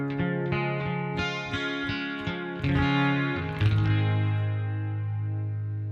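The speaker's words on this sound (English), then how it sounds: "We've got a 12 string sound here." A 12-string acoustic guitar tone played through a Spark amp rings out in a run of bright, shimmering strummed and picked chords, close and clear, with a few sustained notes letting the doubled strings chime before fading.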